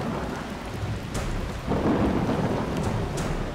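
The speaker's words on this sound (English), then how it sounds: "I think there's a storm happening." A thunderstorm in Death Valley: steady rain hissing throughout, with a deeper rumble of thunder swelling partway through and rolling on to the end.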